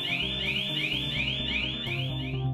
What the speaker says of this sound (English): it will immediately trigger a piercing 98 decibel audible alarm